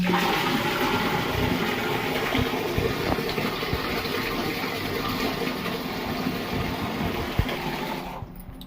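Water gushing steadily into a bucket for washing clothes, a continuous loud splashing pour that runs unbroken for several seconds before cutting off abruptly.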